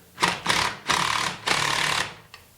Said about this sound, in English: it's really nice to be able to use an impact drill and an 8mm Allen head on the end of it